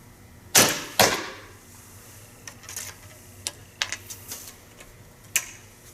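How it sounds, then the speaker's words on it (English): Arrows are loosed from a traditional bow, two sharp nearby releases followed by softer thuds and clicks of arrows landing and nocking, with no speech. "I'm going to shoot 3 ends with them mixed to see if I can find any difference"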